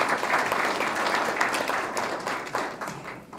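A congregation at a church wedding applauds, a dense, steady patter of many hands clapping at once that carries on for several seconds at moderate volume.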